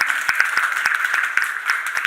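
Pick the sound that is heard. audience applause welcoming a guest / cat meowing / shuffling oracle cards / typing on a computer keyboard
audience applause welcoming a guest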